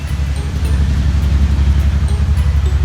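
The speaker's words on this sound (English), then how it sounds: "That truck can go by." A truck rumbles by on a nearby road, a steady loud low engine drone throughout with no clear approach or fade.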